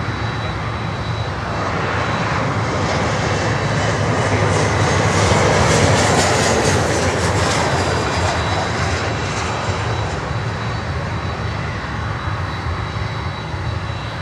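A USAF C-17 military transport approaching to land on runway 8 gives a steady, broad jet engine roar that swells gently mid-pass and holds loud throughout, with no talk.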